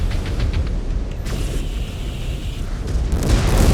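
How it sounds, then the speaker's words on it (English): A loud explosion in a video game, delivered as a dense, rumbling roar with crackling bursts that sustains for several seconds rather than fading, with no voices over it. "Explosion imminent."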